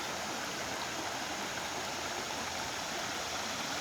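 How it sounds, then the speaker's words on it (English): French Creek in Warwick Park gurgles over small river weirs, a steady, dense rush of flowing water close by, continuous and unbroken without voices. "But it makes the stream gurgle more"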